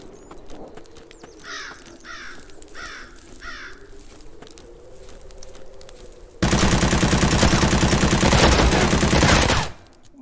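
Automatic gunfire from the top-down shooter ZERO Sievert bursts in loud and sustained for about three seconds, a dense rattling stream that cuts off abruptly after quieter ambient game sounds and bird-like caws.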